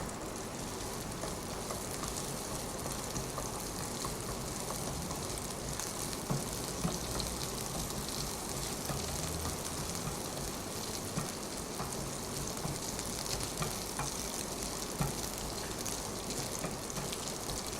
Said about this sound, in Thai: ผัดเครื่องให้หอมนะคะ